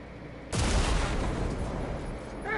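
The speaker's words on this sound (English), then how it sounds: "much bigger explosion than I would have guessed" An explosive gas tank detonates in the shooter game Generation Zero, a sudden heavy blast that rolls into a long, loud rumbling roar and slowly fades.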